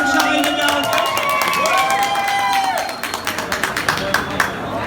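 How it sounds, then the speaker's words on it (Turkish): Audience applause at a Turkish product launch event for a herbal mascara, crowd clapping and cheering loudly throughout with background music tones, thinning into scattered individual claps near the end. "Alkış alabilir miyiz bir abici?"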